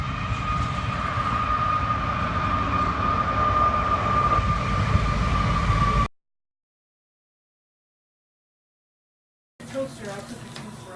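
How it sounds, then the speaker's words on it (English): A big train rolls past a campsite, a loud, steady rumble with a sustained metallic whine that cuts off abruptly, followed by silence and then faint background noise. "It's like the 8th train that's come by in the last 4 hours."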